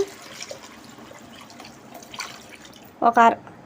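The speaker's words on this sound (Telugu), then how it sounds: "ఒక గ్లాస్కి రైస్కి 2 గ్లాసులు వాటర్ పోసుకోవాలని ఇప్పుడు పోసేసుకుందాం మొత్తం" Water is poured into a pot of raw rice, two glasses per glass of rice, while cooking a mushroom biryani. A short splashing gush comes near the end after a quiet stretch of low room noise.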